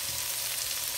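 Potatoes fry in curry in a pan, a steady bright sizzle heard up close and alone for a moment.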